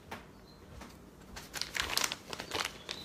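Plastic packaging of a kombucha culture crinkling while being cut open with scissors, close and quiet, with irregular rustles and snips.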